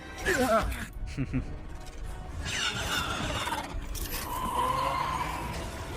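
Tyres squealing and skidding as a vehicle drifts in an animated Star Wars: The Bad Batch action scene, a loud sliding screech rising over a busy soundtrack, with a reacting voice talking over it.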